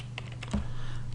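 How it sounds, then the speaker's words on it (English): Fingers tap on a computer keyboard during settings entry in an eCommerce program, giving a short burst of close, quick keystrokes over a steady low hum. "my typing's going a bit bad there"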